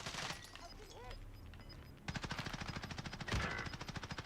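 Rapid automatic gunfire from a battle-royale shooter match, loud bursts of machine-gun rounds hammering steadily after a quieter stretch, with a heavier blast near the end.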